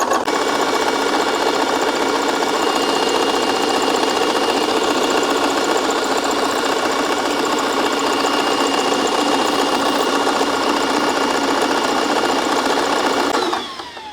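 A high-pressure air compressor runs steadily and loudly, filling an AEA Harpoon airgun to 5,000 PSI with a continuous mechanical chugging hum that cuts off abruptly at the end.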